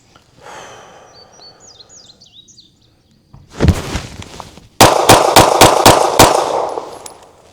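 A handgun fires during a timed draw-and-shoot drill: a loud opening crack, then a rapid, evenly spaced string of about six close shots, with faint birdsong beforehand.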